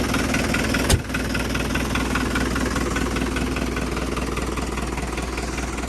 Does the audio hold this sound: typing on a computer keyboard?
no